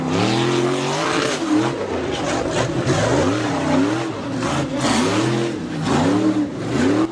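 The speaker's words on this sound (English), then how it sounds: "my favorite segment of off-roading, a little bit of rock bouncing" Off-road rig rock bouncing, its engine repeatedly revving hard in rising and falling surges, loud and close, with clatter and thumps from the chassis between the revs.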